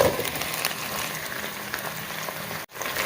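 Onions and zucchini frying together in a pot, a steady broadband sizzle with a crackling hiss that holds evenly throughout, close and moderately loud, with a brief dropout near the end.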